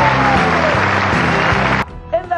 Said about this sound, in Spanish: un aplauso para Rastrojo